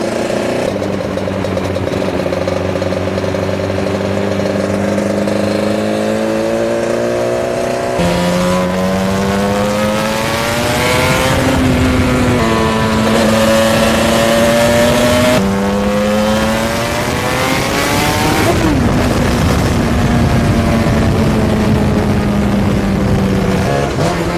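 Suzuki RG400 two-stroke motorcycle engine under riding, loud and close, its buzzing note rising through the revs and dropping back at each gear change, several times over.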